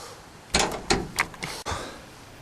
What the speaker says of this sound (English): Cool. Front door works anyway.